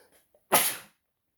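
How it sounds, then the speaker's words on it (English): A single sharp sneeze bursts out close to the microphone, breathy and bright, after a brief quiet intake, then silence. "geez, sneezing"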